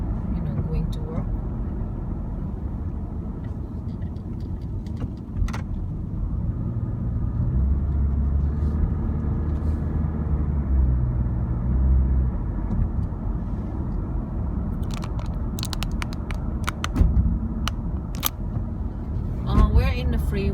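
A car cruises along the freeway toward Perth city, giving a steady low road and engine rumble throughout, with a few clicks and knocks from inside the cabin.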